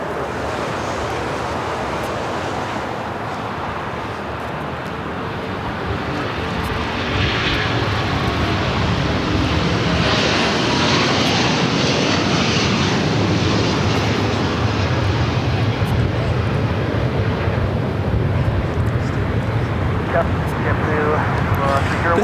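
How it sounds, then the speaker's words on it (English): Asiana Airlines Airbus A380 taking off from runway 25 left at LAX, a loud swelling jet roar that builds midway and stays powerful and sustained, with people talking nearby. "This is Asiana Airlines 201 taking off to Seoul on the A380."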